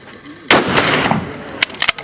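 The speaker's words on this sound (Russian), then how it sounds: "Первый выстрел стоя." A single sharp rifle shot fired from standing at a sniping competition in Osh, Kyrgyzstan, cracks out loudly, its echo trailing off, followed by a couple of brief mechanical clicks.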